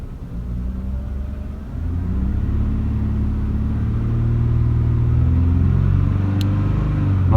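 An Audi 2.6 ABC engine fitted with a 2.8 AAH intake manifold idles, then revs up and holds at a higher, steady pitch, a loud continuous rumble close by.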